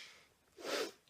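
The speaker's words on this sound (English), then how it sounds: "I keep sniffing" A person gives one short, close nasal sniff, a quick breathy burst in an otherwise quiet moment.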